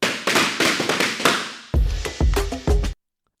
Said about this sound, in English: what you hear there is all of the women bursting their balloons